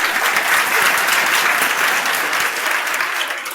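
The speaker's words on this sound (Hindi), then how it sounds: "इसमें ताली आप बजा सकते हो, आप भी बजा सकते हो" A live audience at a talk on life lessons for girls and boys breaks into steady, dense applause that holds loud and even for the whole stretch, easing slightly at the very end.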